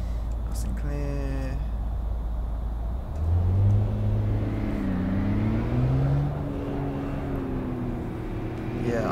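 Volkswagen Golf R32 engine in the City Car Driving game, revving and shifting through gears with rising and falling tonal whine, loud and close, after a brief stuttering burst at the start.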